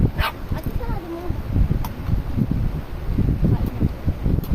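A family dog barks and yips repeatedly in a home on a third floor, the sharp calls scattered over a steady background of indoor commotion and nearby voices.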